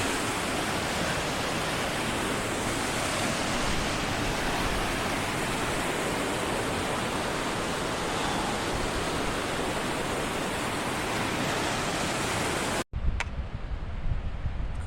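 A mountain river in Grand Teton rushes under a footbridge, a loud, constant broadband roar of flowing water that cuts off abruptly near the end, leaving a faint quieter background.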